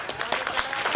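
Audience members at a kirtan clap in a quick, uneven burst of hand claps, moderately close and lasting only a moment.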